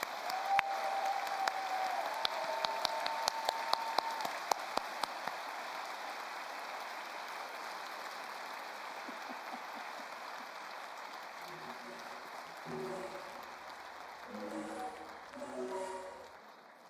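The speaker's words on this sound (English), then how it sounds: "Please join me in a round of applause and do enjoy the rest of your evening." Audience applause at the Glasgow 2024 Hugo Award ceremony, a few seconds of clapping that fades into a broad, steady wash of crowd noise, with voices and murmurs rising toward the end.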